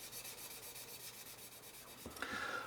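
A sanding sponge rubs down a plastic Airfix 1/48 Supermarine Spitfire Mk.XVIII model kit, making soft, close, scratchy strokes that are quiet and steady, with a slightly firmer scrape near the end.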